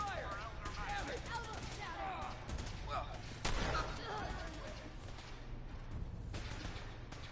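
Fallout 4 combat: rapid gunfire bursts and scattered shots at moderate distance, fairly faint overall, with a sharper blast midway and voices talking in between.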